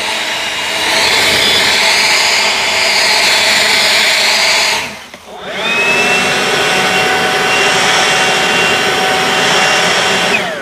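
An EGO LB7650 battery leaf blower runs at full power, a loud, steady high-pitched whine and rushing air that briefly cuts out and dips to near silence before spinning back up to the same roar.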